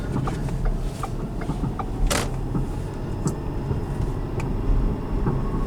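Damp brakes on a moving car give off irregular creaks and squeals, close and intermittent, scattered across a few seconds over low road rumble with no talking.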